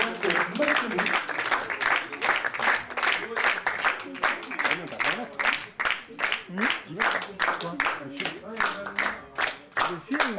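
Audience clapping at a slam poetry show, a dense, steady applause running the whole time, loud and close, with a voice talking over it.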